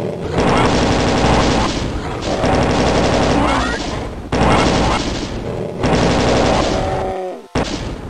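Loud bursts of weapon fire from the shooter Doom 2 come in repeated runs of rapid shots separated by brief gaps, with game effects sounding between them.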